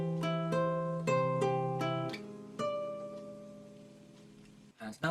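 A guitar strums a chord about five times in an even rhythm, and each chord rings on and fades. It is close and clear, and a brief knock follows near the end.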